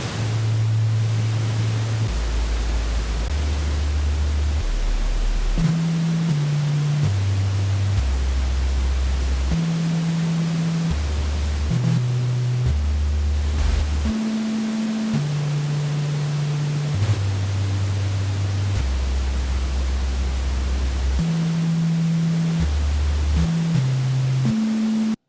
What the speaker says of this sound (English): I can also morph this um, noise waveform into a sine wave